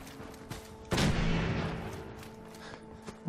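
A single loud gunshot blast with a rumbling decay from a non-player character in Fallout 4, over low background game ambience and followed by softer distant pops.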